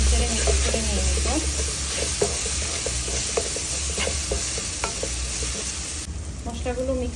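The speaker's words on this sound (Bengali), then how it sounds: "নেড়ে চেড়ে মিক্স করে নিয়ে নিব।" Turmeric and chili powder stirred and frying in a pan for green mango pickle, a continuous loud sizzle with scraping spoon strokes throughout, and some talk.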